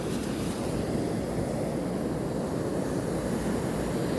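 Sea waves washing up onto a beach in Sri Lanka, a continuous, moderately loud rushing surf with no distinct breaks or voices.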